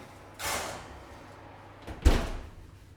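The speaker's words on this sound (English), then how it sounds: "Let's whack it in the oven here." An oven door swings shut on a tray of sugar-free chocolate hazelnut brownies. A soft sliding whoosh is followed by a sharper, louder thud as the door closes, heard close with no talking.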